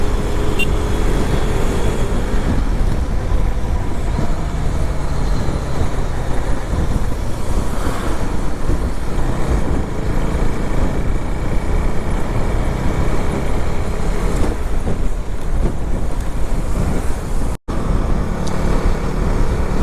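Steady road traffic roars past on a Maharashtra highway near Chiplun and Khed during a solo motorbike ride from Mumbai to Kankavli, a loud continuous wash of car, bus and truck noise with wind rumble and no break.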